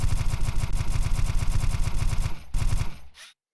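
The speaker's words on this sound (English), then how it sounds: "This is just your typical M16 assault rifle." An M16 assault rifle in the retro shooter game Dusk firing a rapid sustained burst of loud, evenly spaced shots, then a brief pause, a second short burst and a quick trailing tail into silence.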